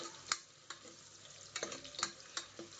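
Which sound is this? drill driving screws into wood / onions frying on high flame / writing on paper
onions frying on high flame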